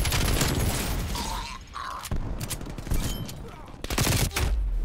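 Rapid bursts of machine pistol fire in Call of Duty: Black Ops Cold War, loud and close, mixed with other gunfire and impacts in a busy firefight, with a voice speaking briefly over it.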